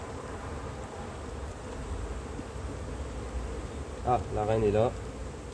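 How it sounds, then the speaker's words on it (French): Honeybees droning around an open hive during a spring inspection, a constant low buzz throughout with a nearby voice speaking briefly near the end. "Forcément les jeunes abeilles vont faire leur petit vol de"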